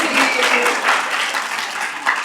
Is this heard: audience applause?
yes